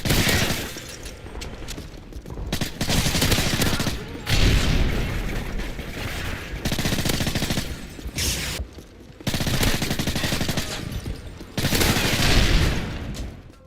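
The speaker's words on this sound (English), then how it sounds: "the suppressed MP7 is one of the most nostalgic sounds in COD history for me" Suppressed MP7 submachine gun fire from Call of Duty, dense rapid bursts of muffled shots repeating in several long strings separated by brief pauses, loud and close.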